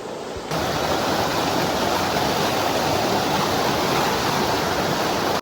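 Steady roar of a hidden waterfall near Panagudi, a dense broadband rush of falling water that holds constant and loud throughout after a brief quieter opening moment, with no voices.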